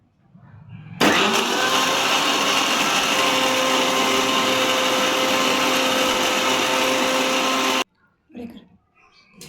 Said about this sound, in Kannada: ಇವಾಗ ನಾನು ನುಣ್ಣಗೆ ಮಿಕ್ಸಿ ಮಾಡ್ಕೊಳ್ತೀನಿ